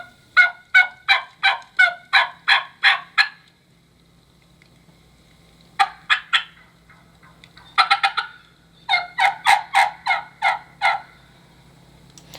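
Wild turkey gobbler calling in repeated bursts of loud, rapid yelping and gobbling notes, clear and fairly close, with short pauses between the series and no talking.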